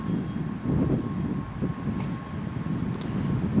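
Steady low rumble of an IC3 passenger train heard from inside a carriage in Denmark, with soft rhythmic track thumps and faint rattles.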